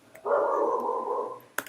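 One of three dogs kept at home gives a single sustained, whining bark-like call, fairly faint as if from another room, ending in a sharp click.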